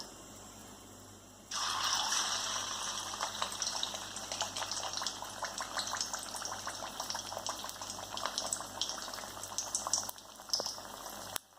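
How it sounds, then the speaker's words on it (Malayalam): Pieces of potato bread dropped into hot oil, setting off a sudden, steady, crackling sizzle that fills the rest of the clip at close range with no talking. "എണ്ണ ചൂടായി അതിലേക്ക് നമുക്കിത് ഓരോന്ന് ഇട്ട് കൊടുക്കാം."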